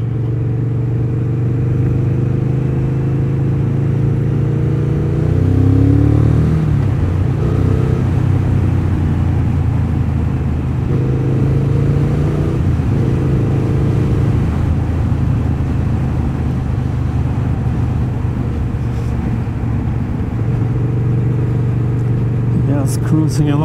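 A Triumph Speed Twin 1200 motorcycle cruises along a road, its low twin-cylinder engine rumbling steadily and close, rising briefly with throttle changes, while someone talks over it.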